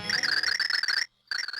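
A warbling sine-wave tone in the Super Paper Mario video game, steady and bright, that cuts out briefly to silence before resuming at the same level.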